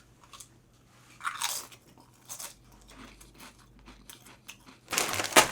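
Someone bites into an onion-flavored vegetable cracker snack, producing several close, crisp crunches spaced a second or so apart, with quieter chewing between them and a louder crunch near the end.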